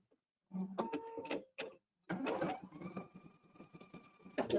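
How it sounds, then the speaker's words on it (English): An Epic embroidery sewing machine does basic stitching in quiet, mechanical bursts: whirring, clattering runs of the needle broken by short pauses, with a steady motor hum during the longer stretch. "Now it's going to do some basic stitching."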